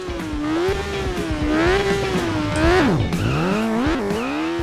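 A motorbike engine in the GP Turbo video game roars loudly and continuously, its pitch rising and falling with shifting revs, then dipping sharply and climbing again as the bike races.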